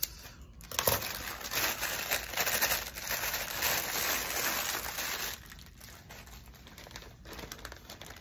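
Scissors snipping through a piece of silk sari fabric, close up: a steady dry crisp rasp of cloth being cut, continuing for several seconds with small pauses and softer slicing toward the end.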